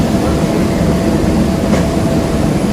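A train departs Ipswich station on the Great Eastern Main Line, making a loud, steady rolling rumble with faint wheel clatter throughout the short stretch.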